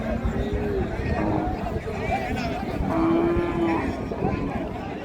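At a cattle market a local-breed cow with her heifer calf lets out long, loud moos over the chatter and bargaining of people nearby.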